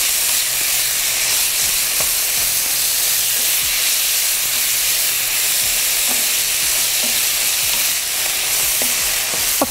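Chunks of meat browning in a pot for a turnip stew, giving a loud, steady sizzle and frying hiss throughout with occasional soft stirring clicks, with no talking.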